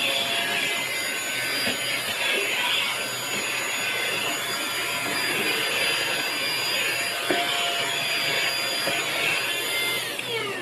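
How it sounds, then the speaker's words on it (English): A JB-107 mini handheld vacuum cleaner powered by two lithium-ion cells runs with a steady, loud, whining suction roar, sustained for about ten seconds without speech. "So to vacuum, you can just press the button you have here"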